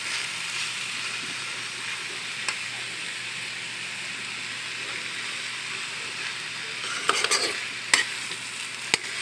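Bamboo shoots being sautéed in a pan, stirred steadily under a continuous low sizzle, with a few sharper scrapes and clinks of the utensil against the pan near the end.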